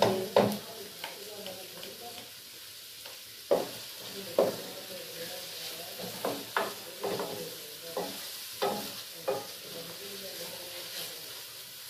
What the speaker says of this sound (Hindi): प्याज अच्छे से फ्राई कर देती हूँ